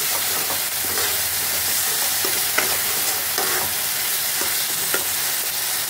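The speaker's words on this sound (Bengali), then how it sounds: "মশলাটা আমার কষানো হয়ে গেছে, তেল বেরিয়ে এসছে" Thick masala spice paste frying in oil after long cooking, a steady close sizzle with intermittent scraping stirs and clicks of a spoon against the pan, no talking.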